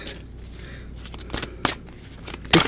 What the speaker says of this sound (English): The cards are a little difficult to shuffle.